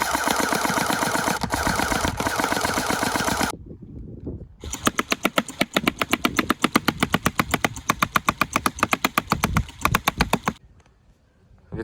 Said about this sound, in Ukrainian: Покажемо вам, як він стріляє.